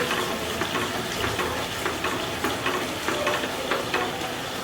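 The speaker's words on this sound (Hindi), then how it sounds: "मसाला भून रहा है और इसमें तेल ज़्यादा हो गया इसलिए पता नहीं चल रहा है।" Spice masala frying in plenty of oil, a steady close sizzle with faint stirring scrapes in a rhythmic pattern throughout.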